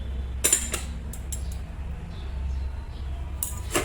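A metal lid is set onto a cooking pot of potato, cauliflower and fried egg fritters, giving a few brief clinks up close over a steady low hum, with another light clatter at the end.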